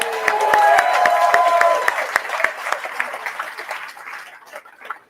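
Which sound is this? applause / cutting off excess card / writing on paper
applause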